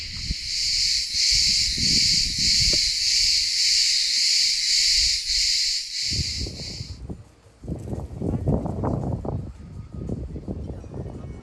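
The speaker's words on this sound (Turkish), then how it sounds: "Şu an kim bilir nasıl geliyordur sesi cırcır böceklerinin." On Tilos island, Greece, a loud, pulsing chorus of crickets trills steadily for several seconds, then cuts out, leaving rustling and shuffling movement nearby.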